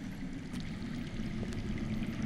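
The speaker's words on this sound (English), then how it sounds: "That's water. I hear water." Steady flowing water rushes and trickles at moderate loudness through a dim underground passage in the Telltale Game of Thrones video game, a continuous wash with no talk.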